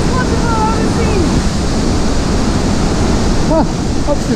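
Heavy, continuous rush of a powerful waterfall in Ecuador, loud and close, with faint voices briefly audible over the roar.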